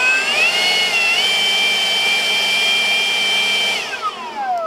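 A steady, loud motorized whine with a high-pitched tone from a Milwaukee M18 FUEL dual-battery handheld leaf blower runs for about four seconds, then winds down as the motor spins to a stop.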